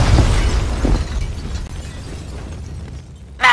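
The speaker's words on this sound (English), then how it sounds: "The building's blowing up." A building blows up in the Max Payne 2 video game: a heavy, loud rumbling blast that slowly fades into a low roar, followed by a sharp burst of debris at the end.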